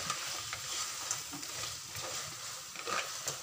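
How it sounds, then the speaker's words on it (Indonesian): Crab tossed with salt and Maggi seasoning powder is stirred in a pan, a soft continuous sizzle broken by repeated scraping and clinking of the spatula up close, with no voices. "Sekarang saya aduk dulu."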